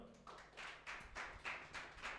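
Congregation clapping at a Sunday church service, a faint, rhythmic series of about seven distinct claps in a steady beat, slightly distant, with no talking over them.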